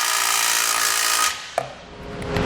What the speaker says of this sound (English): I'm going to use a 3/4 to tighten these bolts up here